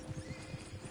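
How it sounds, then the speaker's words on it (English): Horses gallop at speed in Red Dead Redemption 2, a steady rhythmic clip-clop of hooves with a brief whinny, loud and close throughout. "Horses won't go this fast for long."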